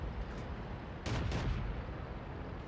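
A tank gun fires in the video game World of Tanks, from a Panzer 58 Mutz. One loud, booming shot with a short rumbling tail cuts through steady game background noise.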